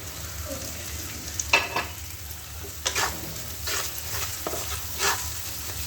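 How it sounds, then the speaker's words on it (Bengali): Capsicum pieces are stir-fried in a hot pan for street-style fried rice: a low sizzle broken by several sharp scraping bursts of a spatula tossing the vegetables, close by and with no talking. "ক্যাপসিকাম দিয়ে কিন্তু আমি বেশিক্ষণ ভাজবো না"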